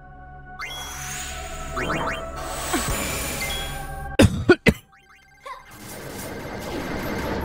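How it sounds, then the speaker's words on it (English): A person coughs and clears their throat near the microphone while playing Final Fantasy X-2, with game sounds, dings and crashes around a sharp burst of coughs. "Why am I coughing?"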